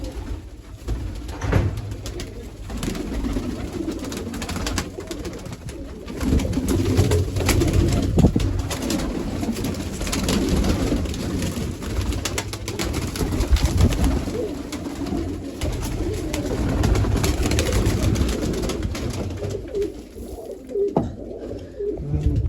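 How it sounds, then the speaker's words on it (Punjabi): Pigeons kept in a loft cooing in a group, soft low repeated coos overlapping continuously at close range, with some rustling and fluttering and no speech. "ਤੇ ਕਬੂਤਰਾਂ ਵੀ ਜਮਾ ਸੈੱਟ ਆ"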